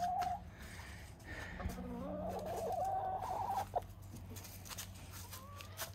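Hens cluck and murmur inside a winterized chicken run enclosed with shower curtains, with several nearby birds calling in short rising and falling phrases over a low background hum.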